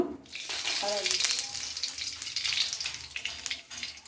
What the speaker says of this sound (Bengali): বেগুন ভাজা তেলের মধ্যে রান্নাটা করবো ফোড়ন দিয়ে দেবো সামান্য